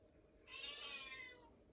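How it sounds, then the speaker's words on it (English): A single short, faint meow from a pet cat named Chloe, drawn out for about a second against a quiet room. "That's my cat, Chloe, talking"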